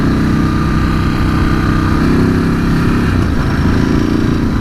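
A 2019 Ducati Scrambler 1100 motorcycle engine drones steadily while riding, a loud continuous rumble with wind noise, pitch rising slightly near the end, and no talking.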